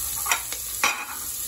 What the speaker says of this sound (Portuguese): com a gordura que ela soltou, mais o azeite que ainda tem ali, eu vou fritar a cebola e o alho